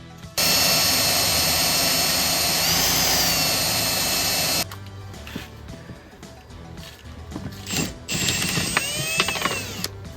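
Power drill boring out stuck deck hardware on a Kawasaki Ultra jet ski, a loud, steady high-pitched whine for several seconds, then stop-start grinding and ratcheting bursts up close.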